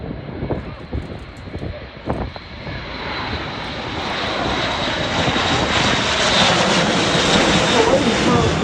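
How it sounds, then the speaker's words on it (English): An Airbus A400M Atlas military transport, rear ramp open, flies past at an air show. The turboprop roar builds steadily from moderate to loud and sustained, with a commentator's voice heard faintly over it early on. "This is the A400M Atlas."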